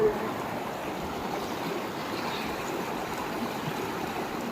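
A fast-flowing river swollen by heavy rain in Raigad rushes in a steady, broadband roar that stays even and close throughout.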